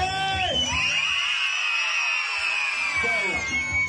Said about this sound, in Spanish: Y ahora me regala grito fuerte.